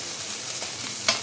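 Small tangra fish frying in hot oil in a home kitchen give a faint, steady sizzling hiss, with a brief sharper clink of stirring near the end.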